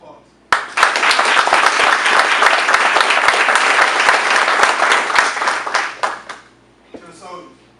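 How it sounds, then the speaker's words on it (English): Loud, sustained applause from a crowd of soldiers, friends and family at a military graduation ceremony, bursting in suddenly and holding steady for several seconds before breaking off, with a few voices speaking as it ends. "will all the soldiers in attendance with me today join our friends and family members in a round of applause?"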